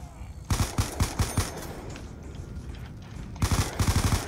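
Two quick bursts of rapid M16 rifle fire in a video game, each a clipped run of loud close shots, separated by a stretch of lower game noise.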